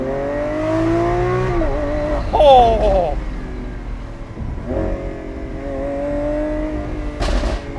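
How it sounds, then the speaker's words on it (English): Lamborghini Aventador SVJ Roadster engine revving on the move, rising and falling in loud surges with sharp crackling bursts near the middle and end, while the driver exclaims over it. "I can't believe I'm driving an Aventador SVJ Roadster"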